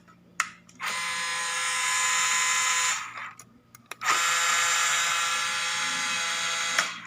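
The steering servo on a JJRC Q60 6x6 military RC crawler, giving two loud, harsh electric buzzes of about two and three seconds each, separated by brief pauses with faint clicks, close up.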